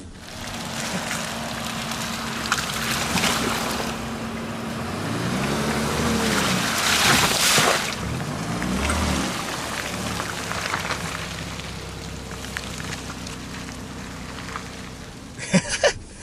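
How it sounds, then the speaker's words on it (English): A Bentley Bentayga SUV drives slowly through slippery, squishy mud, with a steady engine drone and wet sloshing and splattering from the tyres throughout, surging briefly midway, and a couple of sharp knocks near the end. "this is some slippy, squishy mud that we are driving through right now without any struggle at all"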